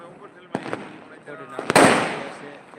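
Diwali firecrackers go off in several sharp bangs: two early pops, then a pair of louder cracks followed by a long crackling burst that fades away, with people talking faintly in the background.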